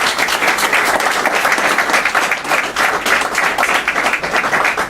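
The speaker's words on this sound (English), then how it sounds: "Let's give them a round of applause for all they do for us." Steady, loud crowd applause fills the whole stretch at an outdoor state funding announcement at Nicholls State, dense clapping with no talk over it.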